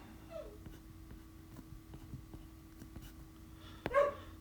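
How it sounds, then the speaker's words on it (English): A 15-year-old dog whimpers and gives a short bark or yelp, faint and somewhat distant, mostly soft whining with one louder vocal burst near the end over a quiet indoor hum. "Y'all might hear my dog barking."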